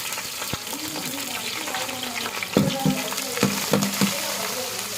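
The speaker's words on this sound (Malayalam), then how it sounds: "പച്ചമുളക്, ഇഞ്ചി, ഒരു പാകത്തിന് കറിവേപ്പില എല്ലാം ചേർത്ത് കൊടുത്ത് നല്ലോണം ഇളക്കും" Green chilli, ginger, garlic and curry leaves frying in hot oil in a pan while being stirred, a steady close sizzle with a few louder scraping stirs toward the end.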